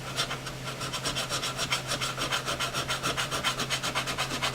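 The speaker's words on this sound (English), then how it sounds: "I can really hear this file biting in." A metal file biting into hard guitar fret wire while crowning frets, a steady rhythmic rasp of quick back-and-forth strokes, loud and close with no talking.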